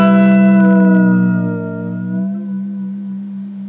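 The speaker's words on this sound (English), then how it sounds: "It sounds especially good if you whammy bar it." An electric guitar strums a dominant seventh chord that rings out, then its pitch dips and wavers as the whammy bar is worked, with heavy reverb and effects coloring the sustained tone.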